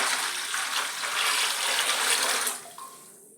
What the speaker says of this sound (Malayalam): ഈ ചൂടുവെള്ളത്തിലേക്ക് സമം തണുത്ത വെള്ളം ഒഴിക്കണം